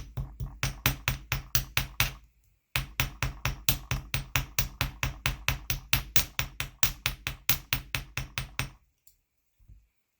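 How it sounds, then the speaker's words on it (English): A chasing hammer strikes metal wire ends for jewelry making in a fast, even series of sharp, loud taps, pausing briefly once and then resuming before ending in quiet. "I'm going to come in with the small end of my chasing hammer and texturize the ends a little bit"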